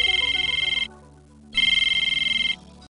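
A telephone rings with an incoming call: two loud, pulsing electronic ring bursts separated by a short gap, with no talking.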